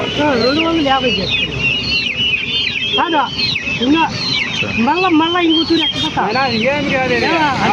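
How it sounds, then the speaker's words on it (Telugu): Kadaknath chickens cluck and squawk in bursts, close by, with a busy crowd of voices talking underneath at a roadside market. "ఇవి కడక్నాథ్ కోళ్ళు."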